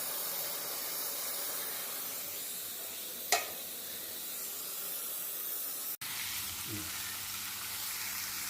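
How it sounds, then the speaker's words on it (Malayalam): Mushroom thoran cooks in a pan over a low flame with a steady, even sizzling hiss throughout, broken by one sharp clink and a brief cut, with no talking. "അല്പസമയം തിളച്ചതിന് ശേഷം ചെറിയ തീയിൽ വേവട്ടെ."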